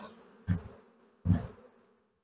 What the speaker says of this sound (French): on va le secouer au-dessus juste pour avoir des abeilles supplémentaires dans la nouvelle colonie